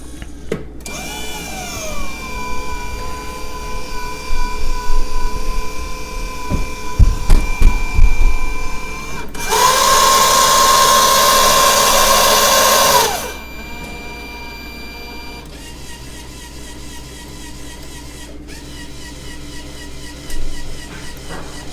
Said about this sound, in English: So you're gonna hear all sorts of sounds, and is basically warming up right now